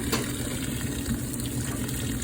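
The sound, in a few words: old washing machine filling with hot water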